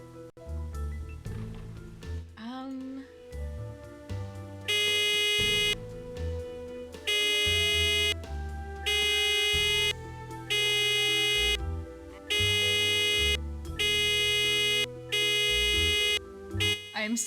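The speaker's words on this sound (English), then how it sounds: "let me actually talk so you don't have to hear the, like, loud beeping sound" A loud electronic buzzer beeps in a repeating pattern of long, evenly spaced tones over a busy, music-like background in a detective-themed Barbie cartoon, with no talking heard.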